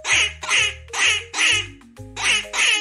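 A duck quacks in a steady run of about six loud, nasal calls, evenly spaced and close, with no other sounds around them.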